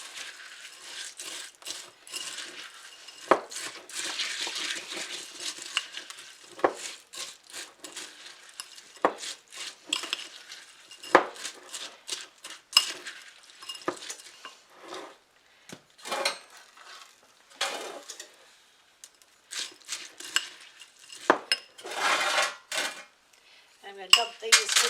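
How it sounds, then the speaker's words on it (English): Sugar and butter being mixed by hand in a bowl for a pineapple Jello pretzel salad, giving irregular scraping and clinking strokes against the bowl, fairly close and moderately loud, with no talking. "Now I'm mixing the sugar and butter."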